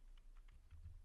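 Light, quick keypresses on a computer keyboard, a few soft clicks over a low steady hum, faint and close with no voices.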